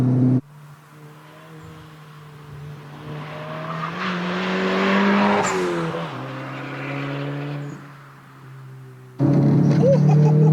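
A Volkswagen Golf GTI Mk7 is driven hard along a tree-lined rally stage, its engine droning and rising under load, with tire noise and a loud surge near the end, heard from inside the car.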